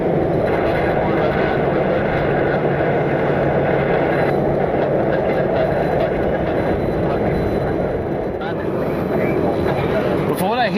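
A loud, steady aircraft engine roar with wind buffeting the microphone, sustained throughout as an airliner passes nearby at Cleveland's airport.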